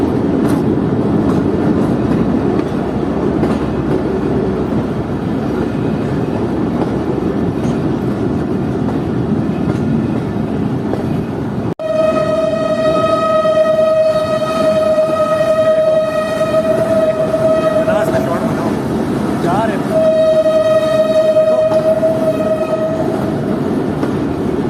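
A Chaman passenger train rolls past loud and close with a steady rumble, its horn sounding in long held tones about halfway through, with a short break before a second blast.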